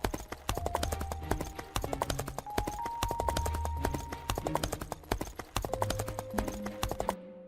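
Several horses' hooves clip-clopping as they arrive, a brisk, rhythmic run of close, crisp hoofbeats set against sustained musical tones, continuing steadily before stopping abruptly.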